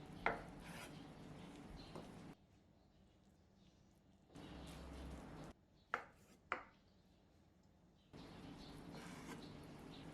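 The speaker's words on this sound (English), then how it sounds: "cut 120 grams of fried tofu into small cubes" A knife cuts fried tofu into small cubes on a board, giving a few quiet scraping passes and sharp taps, then two crisp chops, separated by near-silent gaps.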